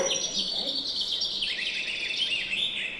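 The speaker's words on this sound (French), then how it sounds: "Oiseau. Oiseau. Printemps. Printemps. Nous sommes au printemps." Birds sing steadily in spring, with dense overlapping chirps and trills filling the background continuously at moderate level.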